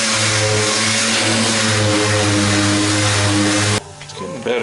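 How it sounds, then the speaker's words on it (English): A power sander runs steadily and loud on an airport limo's bodywork, filling a tight gap, with a strong humming drone that cuts off near the end, leaving quieter handling noise. "Let's go with our sander here."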